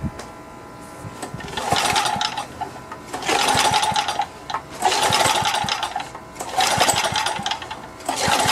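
A Craftsman Eager 1 edger with a Tecumseh carburetor is cranked in four separate attempts. Each try gives a close, rattling, sputtering mechanical burst lasting one to two seconds, then drops to a quieter hiss, and the engine never catches.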